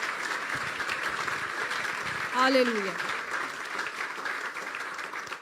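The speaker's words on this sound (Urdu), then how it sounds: "یسوع کے لیے زوردار تالیاں، اس کے پاکرو کے لیے زوردار تالیاں بجائیں گے." A church congregation claps loudly in sustained, dense applause that swells briefly near the middle, while a single voice calls out over it.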